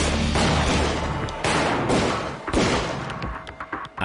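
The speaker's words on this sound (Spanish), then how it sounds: "Anastasia salió literalmente despedido de la silla a balazos." A gunfire sound effect in a documentary about a mob hit in a barbershop, a dense burst of booming shots and thuds, loud and close, fading into rumbling aftermath with no speech.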